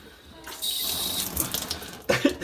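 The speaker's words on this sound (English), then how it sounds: "So when we turned the cold water on, we had a little leak." Water rushes from a newly installed bathroom faucet with the cold tap turned on, a steady hiss that starts abruptly and runs on, with a couple of brief clunks near the end.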